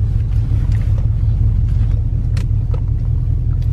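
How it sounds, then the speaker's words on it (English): A vehicle passing near a spot where a truck sits stuck on a rough back road, heard as a loud, steady low engine and tyre rumble close by, with no voices. "Oh, it's just another vehicle."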